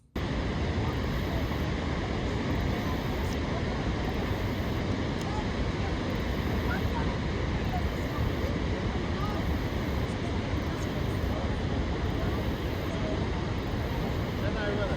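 Niagara Falls: a massive, unbroken roar of falling water fills the space, loud and constant throughout with no pauses.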